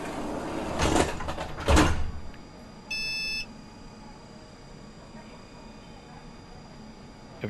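A short electronic departure beep sounds in the tram simulator TramSim in Munich, a single steady tone lasting about half a second, following a couple of louder door or cab clunks and over a low background hum.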